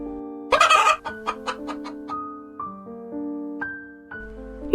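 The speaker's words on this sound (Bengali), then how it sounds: "মুরগিটা হঠাৎ এ বাড়িতে এসেছে, তাই এমন করছে।" A cartoon chicken clucks in a loud burst of flapping squawks, then a run of clipped, evenly spaced clucks and drawn-out tonal calls, clear and close with no talking.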